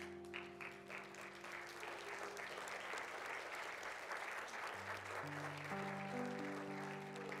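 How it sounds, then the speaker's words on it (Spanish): Congregation applauding during a Spanish-language church service after communion, steady sustained clapping throughout with held organ or keyboard chords sounding underneath. "Vamos a darle un aplauso a nuestro Señor."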